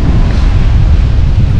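Strong wind buffets the microphone over a heavy, continuous roar of stormy sea surf on a winter beach, loud and steady throughout with no talk.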